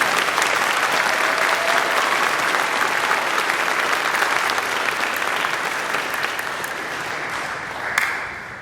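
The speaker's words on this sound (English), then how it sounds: "Can we give them, their staff, everyone a huge round of applause?" An audience in a Presbyterian church at a choir event gives a long, dense round of applause that stays steady and loud, then slowly thins toward the end.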